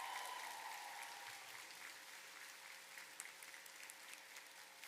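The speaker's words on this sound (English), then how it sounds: "please join me in giving them a big round of applause" Faint, distant applause for faculty at a college commencement, a steady soft wash of many hands clapping in a large space, with a brief tonal voice at the very start.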